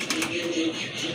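Pigeons offered for sale coo nearby in a few soft, low, throaty phrases, with faint background voices and noise around them.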